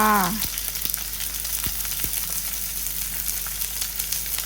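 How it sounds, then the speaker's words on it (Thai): Onions dry-roasting with jana beans in a pan give a steady sizzling crackle, close and continuous, with a few sharp scraping ticks from stirring. "ก็คั่วให้เขาสุกนะคะ ใส่หัวหอมค่ะ"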